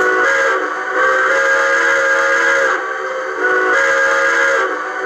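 An O-scale model train engine's sound system plays a steam-style whistle in three steady, loud blasts separated by brief dips, with no talking.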